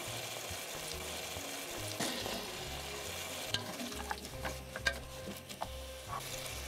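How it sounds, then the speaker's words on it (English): Potatoes tipped into a hot pan for a root vegetable tagine, hissing in a steady close sizzle with scattered stirring clatters and a few sharp knocks against the pan. "Now we add our vegetables. In go our potatoes."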